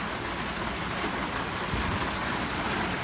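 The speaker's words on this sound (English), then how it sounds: "It's raining. Pretty good rain." Heavy rain pours in a dense, steady hiss, loud and close, with a faint low rumble beneath and no voices.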